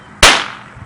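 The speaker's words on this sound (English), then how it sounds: "firecrackers." A single firecracker bursts with a sharp, loud crack, and its noisy tail fades over the following half second, standing alone without talk.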